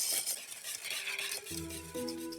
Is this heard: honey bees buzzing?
no